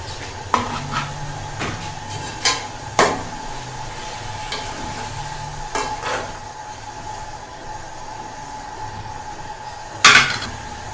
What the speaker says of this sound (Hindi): इसमें मैं ये प्याज, अदरक और लहसुन डाल दूंगी।